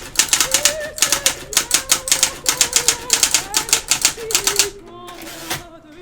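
An electric typewriter being tested clatters out a loud, close burst of rapid keystrikes in uneven runs, then falls quiet with a soft mechanical whir and a last clunk, a voice briefly underneath.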